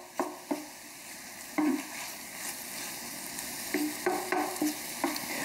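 Sausage and onions frying in a pan, a low steady sizzle broken by repeated scraping and knocking strokes as a utensil stirs the mixture, close by and without talk.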